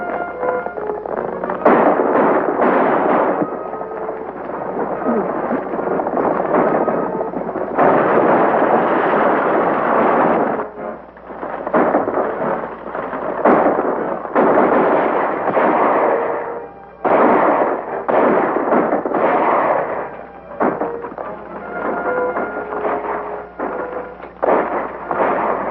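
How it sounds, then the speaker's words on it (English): Rapid, sustained gunfire from a western film shootout, dense crackling volleys of shots running almost continuously with brief gaps, loud and close, layered over a rumbling background. "Whoever's doing that shooting is helping us."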